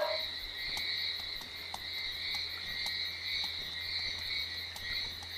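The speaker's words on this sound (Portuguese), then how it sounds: "tá vazando muito barulho dos sapos por aí" Frogs croak and trill in the night ambience of the video game A Juggler's Tale, a steady layered chorus of high pulsing calls with low hum beneath and no talk.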